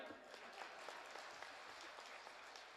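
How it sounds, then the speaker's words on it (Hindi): Applause rises from the audience at a public lecture, a faint, even wash of clapping heard from a distance and alone, without talk. "बजाओ ताली।"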